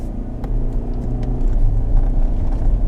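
A 2020 Ford Ranger XLS pickup with parabolic springs drives over a rough rattle-test road, heard as a steady low cabin rumble with scattered faint knocks and ticks.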